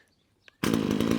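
A Stihl chainsaw fitted with an easy start recoil spring is pulled once. A faint tick is followed by the engine catching into a loud, steady, close-up two-stroke roar that carries on to the end.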